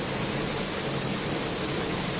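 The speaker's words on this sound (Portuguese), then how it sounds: "Olha isso, quanta chuva." Heavy rain pours steadily onto a home balcony, a dense, loud, unbroken hiss with no pauses and no voices.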